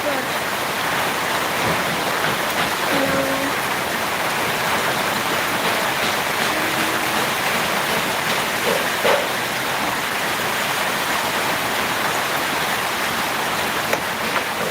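Rain falls steadily, an even, close wash of hiss that holds at one level throughout, with a few faint tones and a voice now and then.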